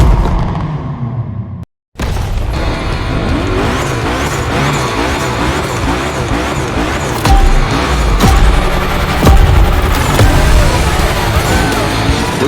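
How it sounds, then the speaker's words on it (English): Cars burning rubber at a gymkhana event in The Crew Motorfest racing game: loud, continuous engine roar with squealing, skidding tires throughout, a brief dropout near the start, then sustained revving and tire screech. "Lots of drivers out to burn rubber."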